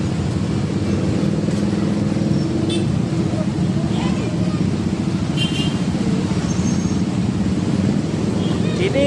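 Busy Jakarta road traffic during the Lebaran holiday, a constant wash of car and motorcycle engines with scattered horn-like chirps, while someone talks over it.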